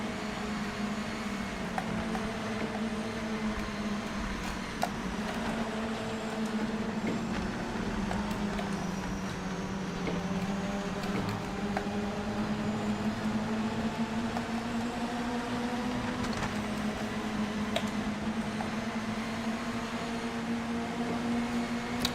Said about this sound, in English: it feels like I'm hearing everybody else's engine noise